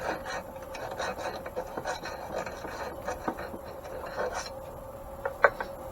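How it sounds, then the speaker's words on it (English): A metal file rasping on an antique grain mill part in uneven strokes, with scraping passes and a few sharper metallic clicks, close and moderately quiet with no talking. "Let's take a file"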